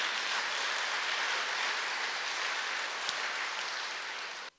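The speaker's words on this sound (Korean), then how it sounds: "뜨거운 감사의 박수를 올려주시기 바랍니다." A large ceremony audience gives steady, sustained applause of thanks at a distance, an even wash of many hands with a faint single knock near the end before it cuts off.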